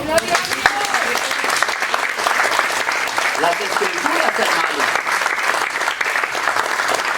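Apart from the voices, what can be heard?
church congregation applauding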